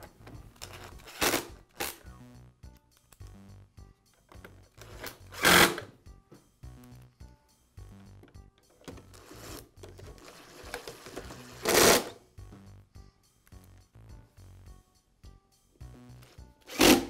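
Screws being driven into the plastic housing halves of a Bostitch air compressor, several short, sharp bursts of whirring driver noise spaced seconds apart, with quiet handling clicks and rubbing in between.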